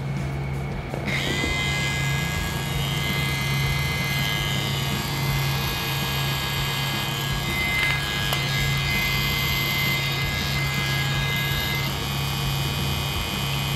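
A tattoo machine fitted with a PEPAX Lance cartridge runs dry without ink, giving a steady close electric hum and buzz that holds unchanged throughout, with no talking.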